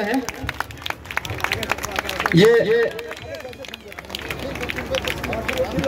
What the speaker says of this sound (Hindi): जोरदार ताली सभी लोग बजाते रहे।